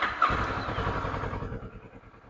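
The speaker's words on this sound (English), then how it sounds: "and if I start the engine" A Kawasaki ER6f motorcycle with a headlight fault starts up close by, a brief whirring crank giving way to a steady, pulsing idle that settles and quiets.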